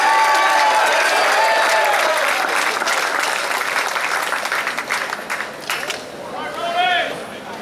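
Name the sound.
applause for the swim team at awards ceremony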